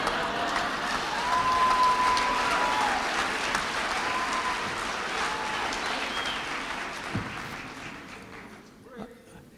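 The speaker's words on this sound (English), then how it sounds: "I hope I didn't hear any laughing among that cheering" A large audience applauds and cheers at a presentation, loud and sustained at first, then slowly fading toward the end, with a few whistles heard early on.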